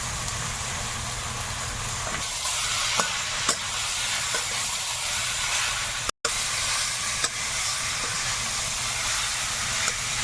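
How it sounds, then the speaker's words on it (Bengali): Potatoes with salt sautéing in a pan give a steady, close sizzling hiss that runs through the whole stretch, with a few soft scraping clicks from stirring and one abrupt brief dropout. "আলুটা সুন্দর করে কষিয়ে নিতে হবে"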